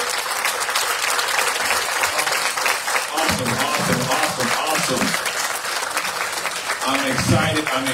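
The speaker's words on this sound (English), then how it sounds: "Let's give a round of applause to our lecturer for the day" An audience at a lecture breaks into sustained applause for the day's speaker, dense clapping throughout with cheers and voices rising through the crowd.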